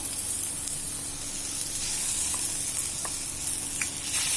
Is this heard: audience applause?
no